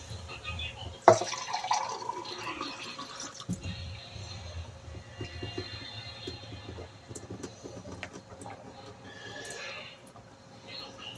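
Tap water runs steadily for about ten seconds in a home during a night routine, a soft continuous splash that starts with a sharp knock and tapers off near the end.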